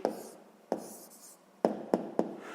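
Pen marks on paper while jotting down a 6th-grade math answer: a series of short, sharp scratching strokes, about five distinct taps and scrapes, close and fairly quiet, with no talking.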